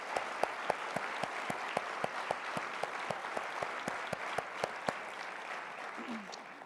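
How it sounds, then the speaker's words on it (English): Gala audience applauding producers and the Campbell family, a broad wash of clapping with a few sharp, close claps standing out rhythmically, steady for several seconds before thinning at the end. "Let's give a round of applause"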